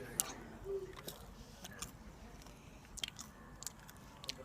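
Someone bites into crunchy Turkish candy and chews it up close, a series of quiet, irregular crunches and crackles with soft mouth sounds between them.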